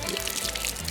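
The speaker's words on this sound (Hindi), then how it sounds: "देखिए अब जब शरीर पर ये जल गिरेगा" Water poured over a person's body for bathing pours and splashes continuously at close range, a dense liquid rush with no pause.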